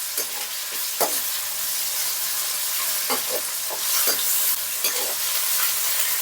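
Ginger garlic paste fries with tomatoes and onions in a pan, giving a steady crackling sizzle close by with intermittent stirring scrapes and clicks.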